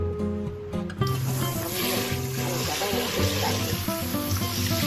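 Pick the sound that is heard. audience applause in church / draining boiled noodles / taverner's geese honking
draining boiled noodles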